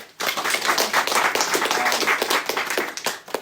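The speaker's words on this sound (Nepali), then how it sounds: "हामी परमेश्वरलाई ताली बजाएर धन्यवाद चढाउँ" A church congregation claps together in thanks to God, producing a dense, steady burst of applause that starts abruptly and carries on for a few seconds without talk over it.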